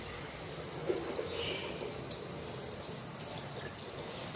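Steady water running from a tap into a sink in a house, a continuous broadband splashing rush with a few brief drips, fairly close and unbroken throughout.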